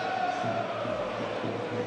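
A large sold-out boxing crowd at York Hall cheers and roars in a steady, dense wash of noise throughout, with no clear individual voices standing out.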